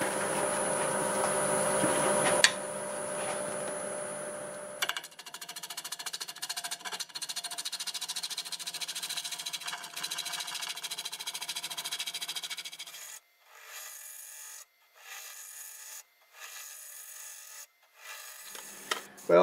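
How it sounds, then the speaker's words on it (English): A freshly sharpened 1/2-inch bowl gouge cuts segmented wood on a lathe spinning at about 800 RPM, making a steady close rasping scrape. A louder stretch comes first, then the cut continues more softly and breaks into short pauses toward the end. "1/2-inch bowl gouge, freshly sharpened, doing about 800 RPM."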